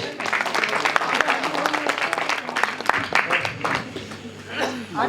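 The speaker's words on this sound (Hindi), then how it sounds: "ऐसे श्रद्धेय लल्लू जी के लिए जोरदार तालियां बजाइए।" A crowd of listeners applauds for a revered poet at a kavi sammelan, the dense clapping filling all five seconds with steady, close rustling bursts and some faint vocal murmurs mixed in.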